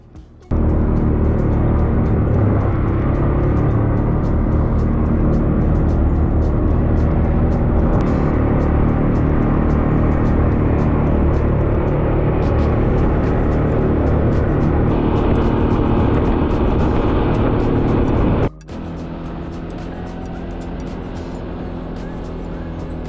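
ATVs on a three-hour island tour in St. Maarten, with a steady loud engine roar held close throughout, changing pitch around the middle and dropping to a lower, quieter drone near the end.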